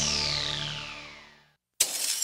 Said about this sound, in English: That's the sound of a house being trashed